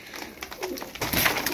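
Fancy flight pigeons of a dragon-type breed cooing in a loft, soft repeated coos close by over a busy bed of flapping and rustling.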